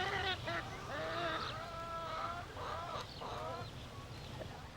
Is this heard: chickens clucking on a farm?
yes